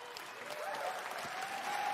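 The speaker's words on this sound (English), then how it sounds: "Everyone's clapping." Large audience applauding at the Bethesda E3 2019 press conference, steady dense clapping with some cheering throughout, moderately distant and continuous.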